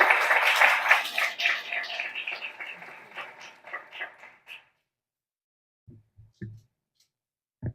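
Applause from an audience at a signing ceremony rises loud at once and fades over about four seconds, followed by silence with a few isolated knocks.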